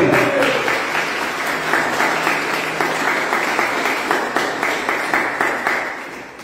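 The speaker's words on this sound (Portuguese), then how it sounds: "Aplauda a Jesus." A church congregation at an evening worship service breaks into loud, sustained applause, many hands clapping together with a faintly rhythmic pulse, steady for several seconds with no speech over it.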